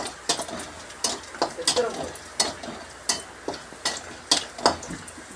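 Garlic and finely chopped ginger sauté in a pan for tomato chutney. A spatula scrapes and taps in a steady rhythm, about twice a second, over a soft low sizzle, close up with no talking.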